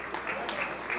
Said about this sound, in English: Big round of applause there to my friend